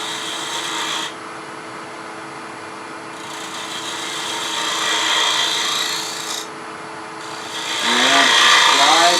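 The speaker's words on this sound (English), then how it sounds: "Now I'm going to switch to a detail gouge to make it just a little bit easier to get in there." A detail gouge carves a rough-cut wooden cable grommet, giving a steady rasping scrape that rises and falls in close strokes, with brief pauses between passes.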